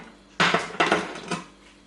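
A baking dish of roasted eggplant slides into an oven with a sharp clunk, followed by two more clattering knocks of metal and glass, loud and close with no talk.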